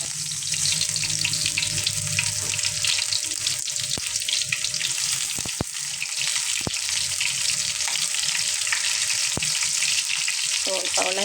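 Onion and garlic sizzle loudly and continuously in a pan for ginisang pako, a fern sauté, with a bright, constant frying hiss and occasional stirring clicks.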